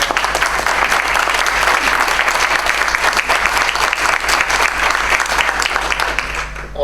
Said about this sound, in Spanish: Un aplauso para Jaime.